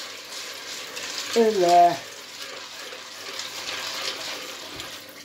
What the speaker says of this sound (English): swirl the water around, cold water down